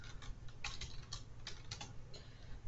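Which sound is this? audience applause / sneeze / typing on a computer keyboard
typing on a computer keyboard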